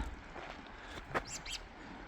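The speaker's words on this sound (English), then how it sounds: "I hear lots of birds." A few faint, high bird chirps sound briefly over quiet background noise at a highway rest area.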